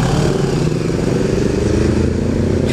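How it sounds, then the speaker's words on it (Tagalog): A Honda motorcycle ridden inside Clark passes close by, its engine a loud, steady roar that holds through the whole moment with no talk over it. "Yung motor kaya yun."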